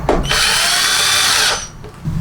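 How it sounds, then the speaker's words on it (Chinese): A power drill drives screws into a TV base during a repair, one sustained whining burst of about a second and a half that spins up and then cuts off, close and loud, with brief handling noise before and after. "我们现在再打2到3个螺丝吧。"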